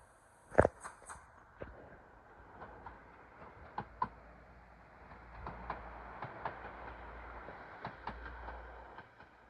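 A Northern Class 195 train to Leeds at York station gives a quiet, low rumble with scattered clicks and clatters, one sharper knock near the start.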